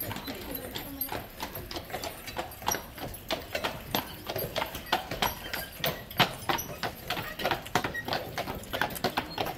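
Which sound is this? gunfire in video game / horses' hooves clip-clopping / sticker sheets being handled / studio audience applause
horses' hooves clip-clopping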